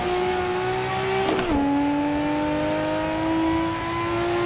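Simulated Nissan Skyline GT-R R34 engine in Assetto Corsa, droning steadily until a quick blip and pitch drop on an early downshift to second, then climbing again as revs build, loud and close throughout.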